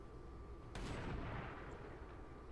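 A sniper rifle fires in the video game XCOM 2: one sharp, loud gunshot with a deep booming tail that fades over about two seconds. No one talks over it.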